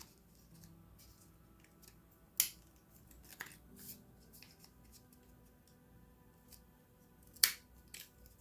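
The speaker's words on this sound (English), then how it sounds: "Just take some scissors and go in there and get the rest off." Scissors snipping close by, two sharp distinct cuts several seconds apart with faint quieter clicks and rustling between them, no talking.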